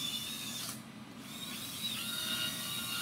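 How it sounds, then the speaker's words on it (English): Holes being drilled into a plastic lid for a homemade vent hood: a steady high-pitched whine from a small drill, close and continuous, briefly easing off partway through, with no talking. "Drill out some holes."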